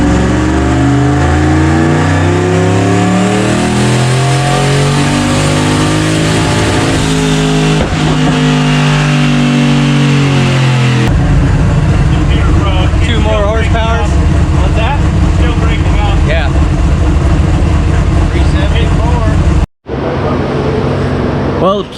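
Car engine revving hard on a dynamometer at a racing shop, a loud sustained roar climbing through the revs and breaking up near the top, with voices and shop noise mixed in.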